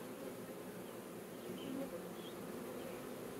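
A dense, steady buzz of many honey bees in an open hive around a caged virgin queen, continuous and close, with no voices over it.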